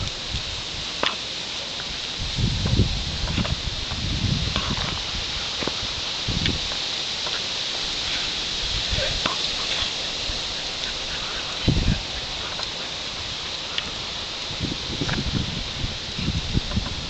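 An overcast, breezy day outdoors at a ranch, where a faint breeze hisses steadily through leaves, with scattered soft gusts and occasional low thumps.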